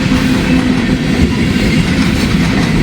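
A big train rolls past on the tracks at Deschler, giving a loud, steady rumble with rhythmic wheel clatter close by and no voices.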